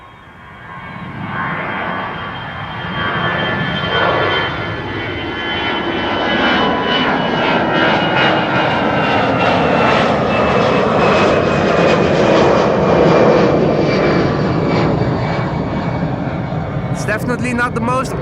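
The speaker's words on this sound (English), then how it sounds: "TUI Dreamliner in the background also taking off." A TUI Boeing 787 Dreamliner taking off from Schiphol runway 24, a loud, steady jet roar that swells and holds with a slowly shifting whine. People talk over the engine noise.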